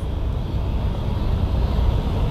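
A Harrier jet passes overhead at an aviation event, a loud, steady broadband engine roar that holds for the whole stretch with no talk over it.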